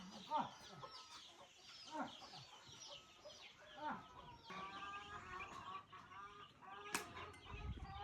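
Chickens clucking nearby at a place where chickens are bought, several short repeated clucks and squawks in a quiet rural setting, with someone talking at times.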